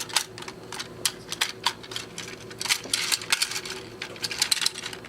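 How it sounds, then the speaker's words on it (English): Plastic parts of a Soul of Chogokin General Franky figure snap together through Bandai clip joints, producing a rapid, busy stream of close, crisp clicks and rattles. "They click out using a pretty typical Bandai clip joint there."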